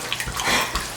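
Chicken broth poured and strained from home-processed broiler chickens, a brief close splashing rush of liquid lasting about a second.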